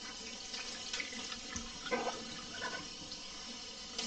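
A running tap rinses a coffee-dyed Nike Air Force 1 sneaker, a quiet, steady splash of water with faint shifting spatter as the shoe is moved.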